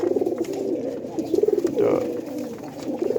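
Grizzle or racer pigeons coo nearby in soft, low, rhythmic bursts that repeat several times, with a few quiet words spoken among them.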